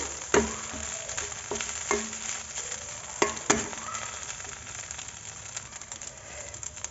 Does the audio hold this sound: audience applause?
no